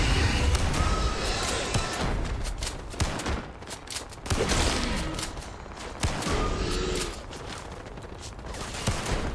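Shotgun blasts in Starfield during a firefight, a string of sharp, loud reports at irregular intervals over a noisy background of other combat sounds.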